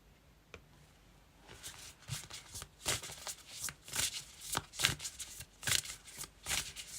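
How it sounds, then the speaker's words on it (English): A deck of tarot cards is shuffled repeatedly, close and crisp, in a string of quick riffling bursts with short pauses between them. "Let's give these cards a good shuffle."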